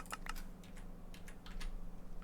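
Computer keyboard and mouse clicks made while shift-clicking items in a game: a quick, close run of light, irregular tapping with no talking.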